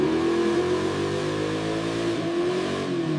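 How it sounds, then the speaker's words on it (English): Honda motorcycle engine held at high revs on a rolling dyno in the factory, a loud, steady, buzzing drone with a strong fixed pitch that wavers slightly and cuts off at the end. "Engine output and transmission function are tested on a rolling dyno."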